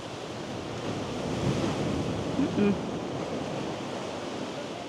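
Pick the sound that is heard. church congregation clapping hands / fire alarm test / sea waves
sea waves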